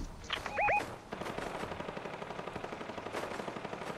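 Rapid automatic gunfire from a Fortnite match, a dense burst of repeated shots running steadily through the whole stretch with a brief louder blast early on.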